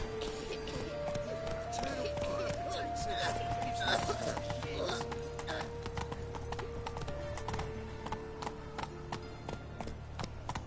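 Roach, the horse in The Witcher 3 video game, gallops with rapid, rhythmic hoof clip-clops over steady game music and ambience, at moderate level, with voices speaking in places.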